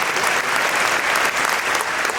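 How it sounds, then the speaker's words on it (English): An audience claps steadily and loudly for third grade flutophone students at an elementary school festival honor concert, the applause dense and continuous throughout. "another big round of applause for all third grade flutophone students"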